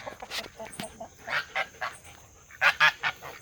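Geese honk repeatedly in short bursts, near and fairly loud, with a pause midway before a louder cluster of honks.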